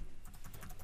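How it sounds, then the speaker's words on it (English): Short burst of typing on a computer keyboard: quick, evenly spaced key clicks in a rapid run, close and clear, with no talking. "Then I can just type"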